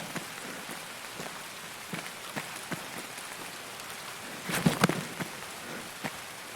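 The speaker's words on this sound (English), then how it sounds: "We got lots of rain going." Steady rain patters on surfaces in Escape from Tarkov, a continuous hiss with scattered sharper drip ticks and a brief louder splashy burst toward the end.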